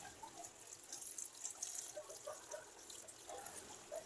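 Sweet potato tops are washed in water, giving faint, close splashing and trickling with small irregular sloshes and drips throughout.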